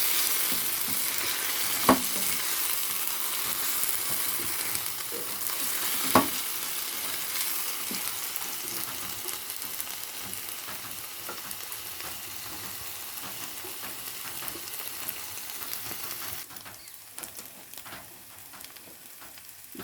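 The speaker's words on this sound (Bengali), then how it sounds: "রসুন, কাঁচা লঙ্কা, এটাকে ভালো করে আমি কষে নেব।" Garlic, green chillies and cumin sizzle steadily in a pan with occasional stirring scrapes and a couple of sharp clinks, the frying loud and continuous before easing slightly near the end.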